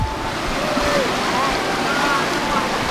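River water rushes steadily, loud and close, as hikers wade across a river, a continuous broadband roar with faint talk beneath it.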